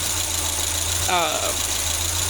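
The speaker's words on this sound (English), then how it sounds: "That's idle air control shooting air into the fuel mixture system." A 1986–1993 Mazda B Series truck engine with Holley Sniper EFI idles steadily under a broadband hiss, with a brief voice passing over it midway.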